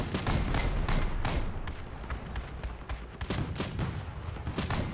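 Grenade launcher fire and explosions in the vehicle combat video game Crossout: a dense run of repeated sharp bangs and booming thuds, loud and continuous, with no voices over them.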